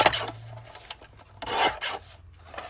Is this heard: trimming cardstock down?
yes